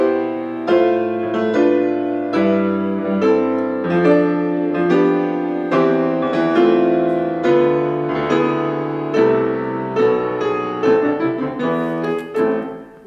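Musical passage with a tied, syncopated bass line under sustained chords, steady harmonic texture moving through several changes, played alone at moderate loudness with no talking.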